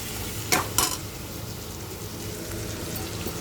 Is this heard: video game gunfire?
no